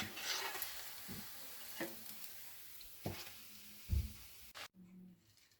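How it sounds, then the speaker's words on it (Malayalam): Fish cutlets frying in hot oil give a low, steady sizzle with a few soft scraping stirs, ending in a brief near-silent pause and a faint bubbling tail. "ബാക്കിയുള്ള കട്ട്ലറ്റിനെയും കൂടെ ഒന്ന് വറുത്തെടുക്കാം"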